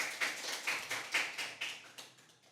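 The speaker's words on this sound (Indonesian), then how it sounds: "Tepuk tangan semuanya" A few people clap during a podcast recording, producing a steady run of about half a dozen evenly spaced claps that sound soft and fairly close.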